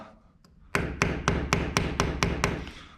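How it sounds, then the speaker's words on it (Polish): A hammer gently taps a plastic wall plug into a wall while a shelf is mounted, eight sharp, evenly spaced knocks following one faint early tick, close and clear with no talking. "Delikatnie wbijam ją młotkiem, żeby ten kołnierz mi się schował."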